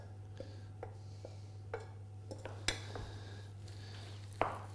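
Softened cooked leeks being stirred into mashed potato in a bowl: quiet, irregular clinks and soft scrapes of a utensil against the bowl, close, over a low steady kitchen hum.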